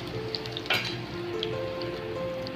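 Karela kofta coated in besan and maida sizzle steadily in hot oil in a pan, a close, even frying hiss with a brief clatter of stirring.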